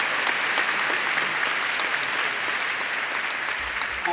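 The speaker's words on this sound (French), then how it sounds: "Je vous propose de les applaudir" A cathedral audience at a Christmas choir concert applauds, a continuous, full and even roar of many clapping hands echoing in the large stone space, without talk.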